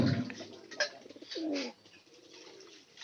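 A sick pigeon cooing close by, with a couple of soft throaty coos rising and falling over quiet background rustle.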